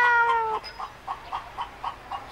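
A cat gives one drawn-out, wavering meow outdoors, followed by a string of short, evenly spaced softer mews, close and clear with no talking.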